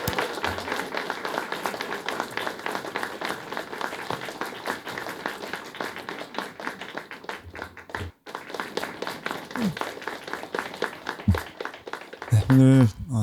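A church congregation at a founding thanksgiving service breaks into sustained applause, a dense, even patter of many hands clapping together for several seconds before it tapers into a few scattered claps and a thump.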